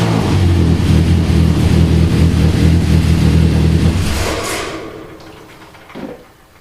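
An engine swapped into a 2004 Chevy Cavalier runs loud and rough with no muffler, a throbbing low drone that fades out after about four seconds, followed by a faint clunk.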